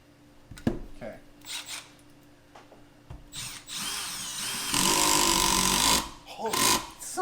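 A Milwaukee M12 Surge impact driver drives screws in close bursts of whirring and rattling, with the longest run near the end, while people talk between the runs.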